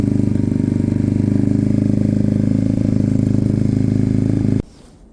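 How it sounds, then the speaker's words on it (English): A Sinnis Cruisestar motorcycle engine idles close by with a steady, even throb, then cuts off abruptly just before the end, leaving quiet. "I'm quite pleased with how the engine sounds overall."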